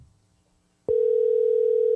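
A steady telephone dial tone starts abruptly after a click and holds loud and unbroken while a call is being placed.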